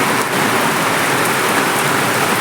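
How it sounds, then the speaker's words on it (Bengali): Heavy rain pouring down at night on a rooftop, a dense, steady roar of drops drumming close and loud without a break. "এই ছাদে কতটা বৃষ্টি হচ্ছে দেখুন"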